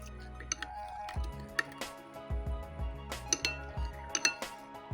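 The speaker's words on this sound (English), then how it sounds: "And then I'm just gonna mix this in here." Yeast, sugar and warm water stirred together in a bowl for calzone dough, with repeated clinks and taps of a utensil against the bowl, a steady run of close, light knocks and scrapes.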